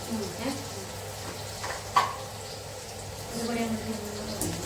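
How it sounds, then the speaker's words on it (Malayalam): Mustard seeds, onion and green chili frying in a pan give a soft, continuous sizzle with occasional stirring scrapes and a small clink, heard close under a voice talking. "കടുക്, ഉള്ളി, പിന്നെ പച്ചമുളക് ഇത് നന്നായിട്ട് ഫ്രൈ ആക്കുക"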